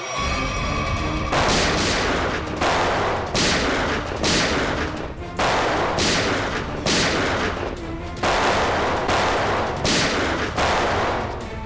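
Loud bursts of gunfire during a shootout in a Hindi crime drama, with about ten rapid shots and short volleys in irregular rhythm, each shot cracking with a sharp echoing tail.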